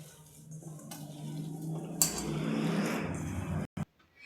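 Potato masala for batata vada is mixed in a bowl, a soft, moist scraping and squishing that swells louder midway, then breaks off with a brief clatter near the end.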